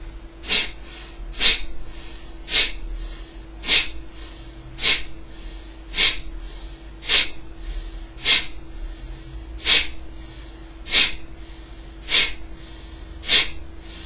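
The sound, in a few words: rapid forceful exhalations, breathing technique demonstration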